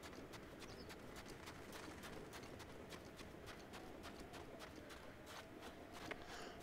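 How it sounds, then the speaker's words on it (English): Horse hooves clip-clop at a steady trotting rhythm in the video game Breath of the Wild (The Champion's Ballad), faint and even under a constant noisy game ambience. "And then the beautiful horse."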